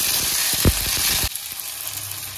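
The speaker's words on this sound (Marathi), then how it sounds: "लगेच बटाटा घालायचा, लगेच हे मटार घालायचे." Potatoes and peas drop into a hot tempering for aloo matar poha, setting off a loud, close burst of sizzling that cuts off abruptly and leaves a quieter, softer fry.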